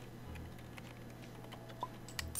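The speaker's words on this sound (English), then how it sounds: "Come on, mate, type away." Office employees tapping away at keyboards in the management game Startup Company, a quiet run of light irregular clicks against a steady low hum, with a couple of sharper taps near the end.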